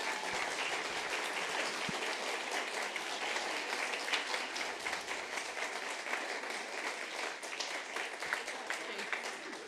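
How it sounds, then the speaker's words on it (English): Sustained audience applause at a mental health carers forum, a dense, steady wash of many hands clapping throughout, fairly close and even in loudness with no pauses. "if you could give yourselves a warm round of applause"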